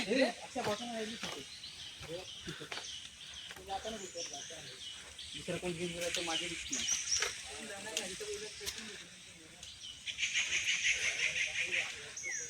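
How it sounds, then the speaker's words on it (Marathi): Birds call and chirp on and off in the open forest of Karnala Bird Sanctuary in Maharashtra, India, near a small stream, with people talking over them for much of the time. "मस्त पक्ष्यांचे आवाज येत आहेत"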